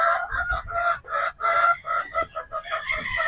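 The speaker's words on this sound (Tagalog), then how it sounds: "Ito po yung ating mga Boston Roundhead pulit." Boston Roundhead chicken pullets clucking close by in a quick run of short, throaty calls with brief gaps, fairly loud and continuous with no talking.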